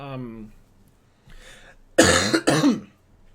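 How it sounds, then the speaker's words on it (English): A person coughs with a congested, mucusy chest, two sharp harsh bursts close to the microphone following a short stretch of speech and a soft throat sound. "Like, I'm still coughing a lot."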